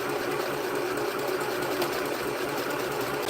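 Sewing machine running fast and continuous, a close, even mechanical whir with dense rapid needle clatter and no pauses.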